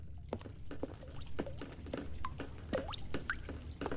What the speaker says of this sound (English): Oh, this whole area is like dripping with water.